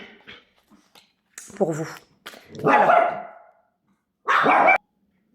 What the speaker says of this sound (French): j'avais mis en pause parce que j'ai les chiens qui aboyaient.